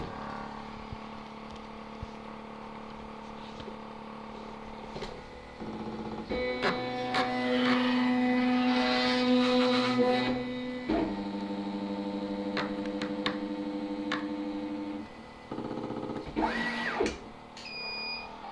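A SMT pick and place machine runs through its startup sequence, with a loud, steady mechanical hum and whine that sits on sustained tones. Short electronic beeps and clicking motor movements shift the sound partway through, with no talking.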